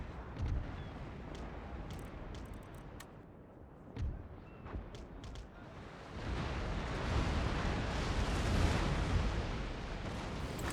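Naval cannon broadsides from sailing warships in the strategy game Empire: Total War, heard as distant, muffled booms and sharp cracks that swell into a heavier rolling rumble in the second half.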